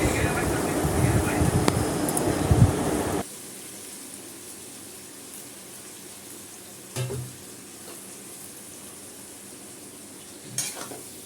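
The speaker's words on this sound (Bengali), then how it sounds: "এবার পুঁই শাকটা দিয়ে একটু নাড়াচাড়া করি পুঁই শাকটা একটু নরম করতে হবে" Malabar spinach is stir-fried in a pan with vegetables for a fish-head curry, giving about three seconds of loud, busy stirring and sizzling, then a quiet stretch broken by a couple of brief clinks.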